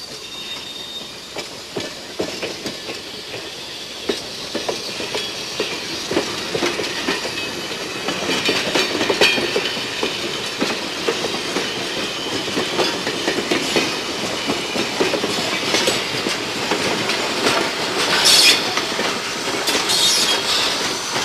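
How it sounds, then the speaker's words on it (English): A train engine passes a switch before pulling onto the main track, a loud continuous rumble with rhythmic clickety-clack of wheels over rail joints and occasional wheel squeals, building in intensity midway. "The train must pass one more switch before it can pull onto the main track. Listen to the sound of this engine."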